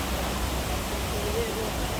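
Waterfall spotted near a shopping market area, heard as a steady, even rushing hiss of falling water that fills the whole moment without pause, moderately loud and fairly distant.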